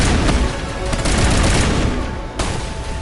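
Loud, sustained gunfire with exploding rounds in the Mass Effect video game, a dense rattling stream of shots and bursts with a brief dip near the end before resuming.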